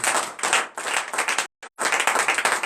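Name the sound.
congregation clapping and acclaiming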